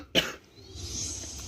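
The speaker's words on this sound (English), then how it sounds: "sorry, I'm sick, guys. I'm coughing" A sick person lets out a single sharp, close cough with a throat-clearing edge, followed by quiet background sound.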